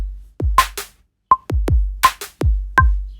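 Programmed MIDI drum beat in Logic Pro X with perfectly quantized kick drums and a slightly loose snare: deep booming kicks alternate with sharp snare cracks and a clicky tone, loud and dry, with no voices.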